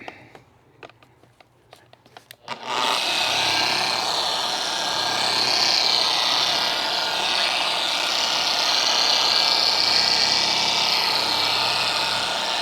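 Quick Viper polisher switched on at its lowest setting while polishing a headlamp: a few light knocks, then a steady, loud whirring drone that holds for the rest of the time.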